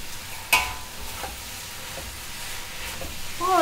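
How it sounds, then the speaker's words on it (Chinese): Rice noodles stir-fried with canned braised pork in a pan, a steady close sizzle broken by a few sharp spatula clanks and scraping tosses. "翻炒。"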